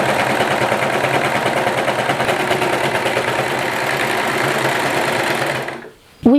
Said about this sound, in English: And let's start serging.